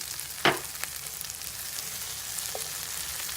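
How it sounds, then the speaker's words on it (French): Tomato paste and chicken sizzle steadily in a pan as water goes in, a sharp hissing burst followed by continued frying crackle and a softer splash later, close and without talk. "vous allez pouvoir ajouter petit à petit un petit peu d'eau"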